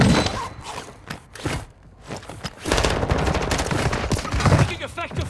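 Video game gunfire in a military shooter, with loud, dense bursts of rapid automatic fire and scattered shots continuing almost nonstop, mixed with game effects.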